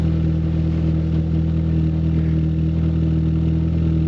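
A Ford Fiesta ST150 idling through a freshly fitted Sportex exhaust system, a steady, loud low drone with a slight rumble and no revving, heard close up without talk.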